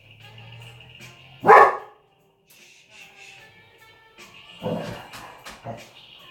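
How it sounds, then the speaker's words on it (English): A dog barks in short bursts, one loud close bark followed later by a cluster of quieter barks and yips, with faint movement between them and no talking. "Now she's barking."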